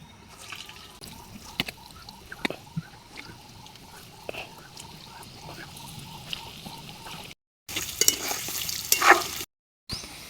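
Lentil vadas for dahi vada frying in hot oil, a soft steady bubbling with faint drips and occasional clinks, quiet and close, ending in a louder burst of sizzling.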